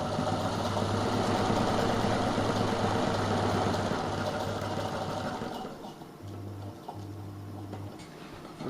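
A sewing machine stitches the edge of a reusable fabric face mask, whirring loud and close in a long continuous run, then easing into shorter start-stop bursts near the end.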